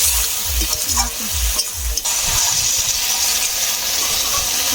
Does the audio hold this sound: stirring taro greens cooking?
yes